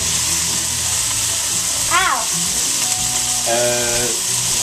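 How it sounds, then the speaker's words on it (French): Vegetable spaghetti sauce is stirred in a pan with a steady sizzle and soft scraping throughout, and a few brief tonal squeaks rise over the bubbling. "Alors, on va brasser tout ça."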